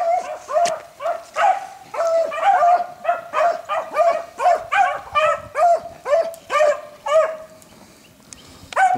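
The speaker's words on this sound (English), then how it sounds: "This rabbit is zigzagging, circling, backtracking. Everything under the book to lose these dogs." Hunting hounds bay while chasing a rabbit, a loud run of repeated, drawn-out barks and bawls from close by, overlapping in an uneven rhythm for about nine seconds.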